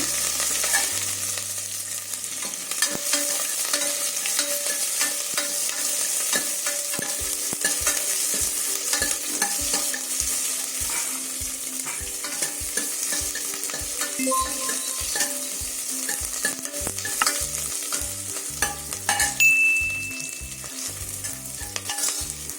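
Onion frying in a tempering with curry leaves, stirred steadily, giving a continuous loud sizzle with a regular run of spoon scrapes and taps against the pan.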